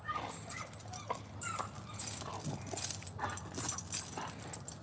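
A brindle bulldog yips and whimpers close by in several short, uneven bursts, with faint background noise and a slight jingle of tags.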